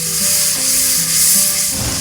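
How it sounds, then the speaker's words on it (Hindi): Onion masala with finely chopped green chillies frying for mutton korma, a loud steady sizzle with soft stirring scrapes running throughout, close and alone with no voices. "अब इसको हम अच्छी तरह फ्राई करेंगे"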